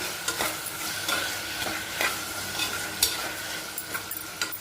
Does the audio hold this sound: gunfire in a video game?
no